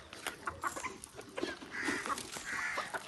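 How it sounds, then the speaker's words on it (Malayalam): A flock of chickens belonging to a father's farm clucking close up, with repeated short clucks and calls over a busy background, no talk. "നമ്മുടെ അപ്പൻ്റെ കോഴിക്കളാണിത്"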